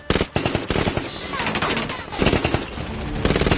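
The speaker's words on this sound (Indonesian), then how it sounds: "para tamu menembak tempat itu secara membabi buta" Rapid machine-gun fire from guests shooting up a place in a Jackie Chan action film, sustained bursts of dense, loud gunfire with short breaks, mixed with other film sound.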